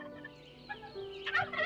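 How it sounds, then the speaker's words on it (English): A turkey gobbles and clucks nearby, a warbling burst of throaty calls that rises in loudness toward the end. "you hear the kyuk and gobble of the strutting turkey cock"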